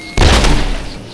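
A single loud gunshot booms abruptly, with a deep, heavy report that rings on and slowly decays in a large metal space filled with turbines.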